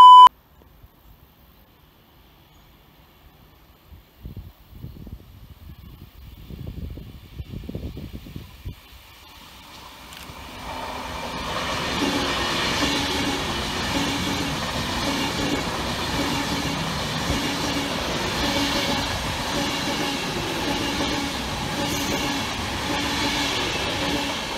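A train approaches Tile Hill Railway Station in Coventry and rumbles past steadily, wheels clattering over the rails. A beep sounds at first, followed by a few faint knocks.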